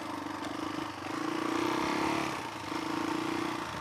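A Suzuki DRZ400E stroker big-bore dirt bike rides a trail, its single-cylinder engine burbling steadily close by and swelling with throttle in gentle surges.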